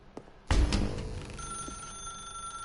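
A telephone bell in The Stanley Parable: Ultra Deluxe rings out loud and close after a soft tap, its ringing tone sustaining steadily with no talk over it.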